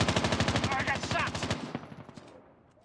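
Rapid automatic gunfire in the COD Mobile video game during a ranked match: a loud, close, even stream of shots for about a second and a half, then trailing echoes that fade away.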